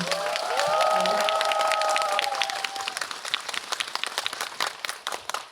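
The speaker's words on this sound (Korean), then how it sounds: "두 분께 박수 한번 부탁드릴게요" Audience applause at a Korean film's eve-of-release screening and Q&A in a CGV cinema hall, steady close clapping that fades out over several seconds, with a cheer or whoop early on.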